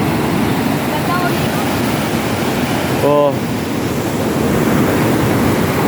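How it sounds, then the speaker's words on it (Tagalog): Large sea waves churn at a murky river mouth during typhoon flooding in Palawan, a loud, constant rushing roar of surf throughout, with a brief exclamation from a voice midway. "Sabi, laki ng alon."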